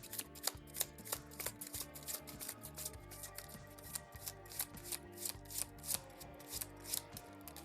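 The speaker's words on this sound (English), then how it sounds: "Let's shuffle the villain deck so we're ready to go here" A villain deck of game cards is shuffled by hand at a tabletop game session, giving repeated quick riffling bursts and taps in an uneven rhythm, close and quiet, with no talking.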